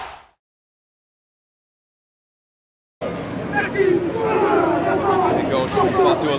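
A rugby crowd at a 2015 Pacific Nations Cup match in Canada roars as a try goes in for Samoa, with loud, sustained cheering and dense chatter erupting suddenly after a short silence and holding steady to the end.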